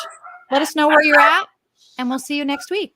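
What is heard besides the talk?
dogs barking in the background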